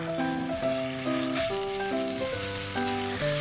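Garlic and scallion frying in Korean chili oil in a pan for spicy stir-fried webfoot octopus, a steady close sizzle running under melodic background music throughout.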